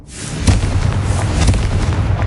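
Hogwarts Legacy Confringo fire spell bursting into a loud, booming explosion, a sharp blast followed by a sustained rumbling roar over about two seconds.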